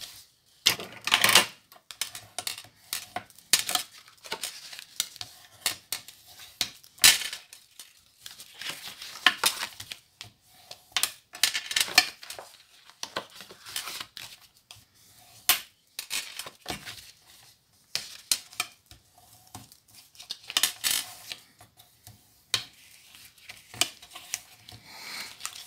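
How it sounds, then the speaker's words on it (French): Light tapping, clicking and scraping as fold lines are marked on a pouch cutout, scattered irregular small strikes at low volume with quiet pauses and no talking. "Et on va marquer tous nos plis."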